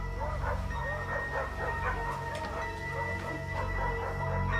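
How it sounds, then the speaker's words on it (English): Several dogs vocalise in a steady run of yips, whimpers and drawn-out howl-like cries at a nighttime home, held at a constant loud level under a low background rumble with no talking. "the dogs began to howl"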